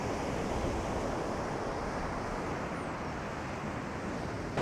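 Ocean waves washing in on the shore at Childers Cove, a steady close roar of surf and wind with no talk.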